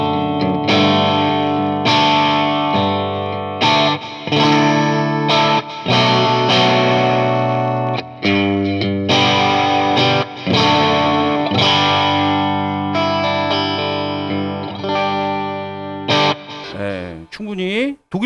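A Sandberg California STS electric guitar rings out with a delay effect, distorted chorded phrases and sustained notes repeating and trailing off, loud and continuous with brief gaps between strums.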